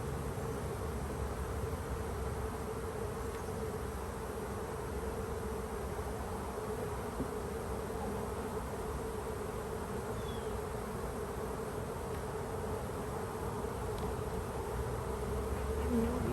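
A honey bee swarm buzzes steadily around a hive outdoors, a dense, even drone that holds at a moderate level throughout with no talking.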